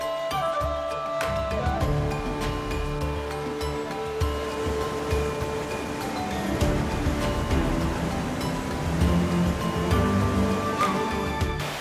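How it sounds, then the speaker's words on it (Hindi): Glacial meltwater stream from the Siachen Glacier near Siachen Base Camp in Ladakh's Nubra Valley, a steady, full rushing roar of fast current heard close up, with no talking. "अब एक काम करते हैं, वाटर स्ट्रीम के पास चलते हैं और पानी के करंट को नज़दीक से देखते हैं।"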